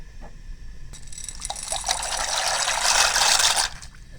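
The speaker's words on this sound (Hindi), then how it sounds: "पानी गर्म हो गया, इसके साथ ही हम इसमें पास्ता शामिल कर देंगे।" Dry pasta tipped into a pot of boiling water with about a spoonful of oil, giving a close, rising watery rush and splash that swells for a few seconds and then cuts off, with no talking.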